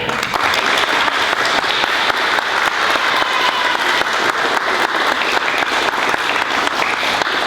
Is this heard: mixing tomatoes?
no